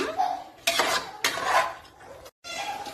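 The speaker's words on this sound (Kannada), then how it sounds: "ಹಸಿ ವಾಸನೆ ಎಲ್ಲ ಹೋಗೋ ಥರ ಹಿಂಗೆ ಫ್ರೈ ಮಾಡ್ಕೋಬೇಕು" Ground masala paste frying in a pan for chicken biryani, heard as close stirring with scraping spoon-on-pot strokes and a light sizzle underneath, in several bursts with a brief silent break.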